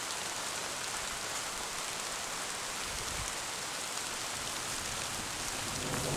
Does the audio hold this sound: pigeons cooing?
no